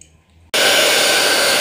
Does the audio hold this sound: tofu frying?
no